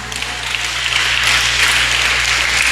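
A church congregation at a midweek worship service claps together in a steady, dense wash of applause that holds at an even level throughout, with a faint low electrical hum underneath.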